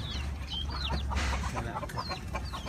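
Chickens cluck on a farm where most birds are fighting roosters, several calls repeating close by over a steady low hum, with no talk.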